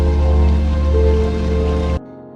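Pouring rain in a forest at night hisses as a steady, loud downpour, with a sustained tonal backing underneath, then cuts off abruptly near the end.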